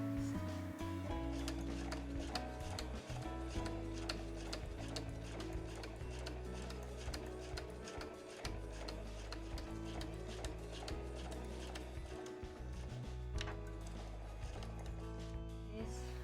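A home sewing machine runs a fast, even stitching rattle along the edge of heavy No. 8 canvas for a tote bag. The motor hums close and steady beneath the rapid needle ticks, with only brief pauses.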